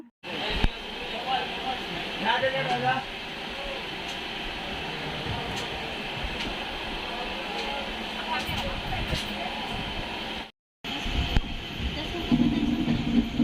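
Continuous rumble and rattle of a train departing Tinsukia and rolling along the tracks, with faint voices underneath and a brief cut near the end.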